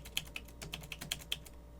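A computer keyboard is typed on at a steady, quick pace, with about ten crisp, distinct keystrokes heard clearly alone at moderate loudness.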